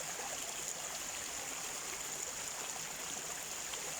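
Water from a small stream flows in a steady, even rush, hissy and continuous throughout at low volume, with no speech and no other sounds.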